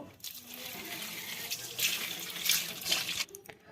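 Water draining off half-boiled cauliflower, then cold water poured over it in a kitchen: a soft, steady splash and trickle that swells into louder pouring bursts before cutting off.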